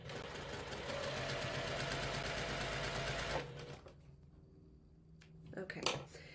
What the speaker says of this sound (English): I'm going to sew another seam.